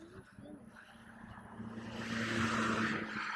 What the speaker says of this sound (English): And then a car goes by.